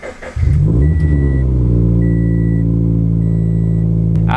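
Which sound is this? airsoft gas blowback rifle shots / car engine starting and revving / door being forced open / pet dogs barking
car engine starting and revving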